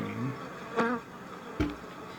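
Honeybees buzz softly inside a glass observation hive, a low, steady drone with two brief, louder swells as individual bees pass close.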